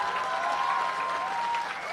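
A crowd applauds a speaker at a public talk, a dense steady burst of clapping from a large audience, heard alone without speech.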